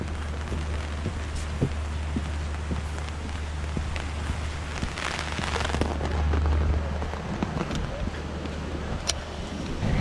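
Steady rain pours down around a person holding an umbrella outdoors, with a constant hiss, low rumbling wind noise and scattered sharp pattering drops over the whole stretch.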